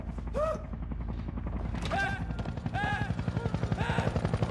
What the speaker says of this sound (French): C'est quoi ce boucan? C'est un hélicoptère!